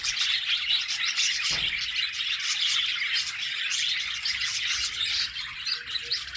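Dense chorus of many small birds chirping and tweeting continuously, loud and close, with a brief thump near the start and no talking.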